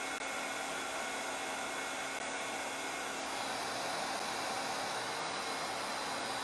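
A heat tool blows steadily to heat set craft pieces, a constant, close, hissing whoosh of air that holds at one level throughout.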